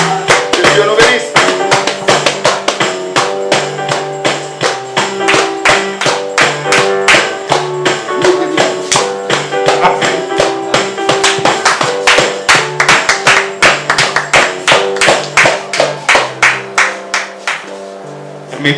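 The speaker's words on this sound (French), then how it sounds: "On acclame le pasteur." A church congregation applauds its pastor with rhythmic clapping in time over loud music with sustained tones, the claps evenly spaced and strong from start to finish.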